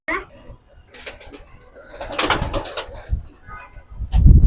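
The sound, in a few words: king pigeons cooing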